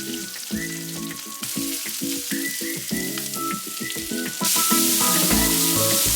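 Bitter gourd and onion frying in a pan give a steady, close sizzle that grows louder near the end, with tonal sounds running underneath throughout.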